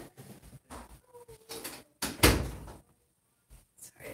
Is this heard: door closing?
yes